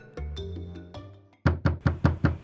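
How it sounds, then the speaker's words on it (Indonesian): A door is struck with a quick run of six firm knocks in an even rhythm, close and fairly loud, following a brief musical phrase heard alone beforehand. "seseorang mengetuk pintu"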